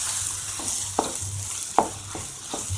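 A semolina (suji) mixture being stirred: a soft, close scraping hiss with a few sharp spoon taps against the vessel at irregular intervals, with no voices.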